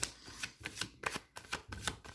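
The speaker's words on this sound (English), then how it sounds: "I pre-shuffle the cards." Tarot cards being shuffled by hand, a quick series of soft riffling snaps and papery flutters in an irregular rhythm, close and fairly quiet, with no voices.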